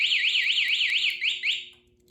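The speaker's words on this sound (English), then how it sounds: "I'm going to set the alarm and it's going to go off, and it's going to be a little bit noisy" Alarm on a Lifan KPR 200 motorcycle sounding a loud, rapidly warbling electronic siren that sweeps up and down repeatedly, then breaks off and fades out near the end, muffled but strong, with no talk.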